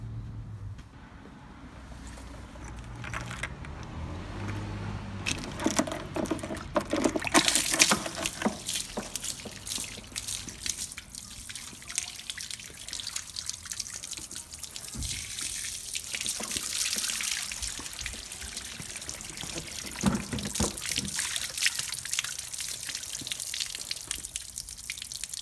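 Water drains from the drain plug of an Eddy Gear 25L fat wall cooler, a steady trickling and splashing stream with occasional drips that continues throughout at moderate volume.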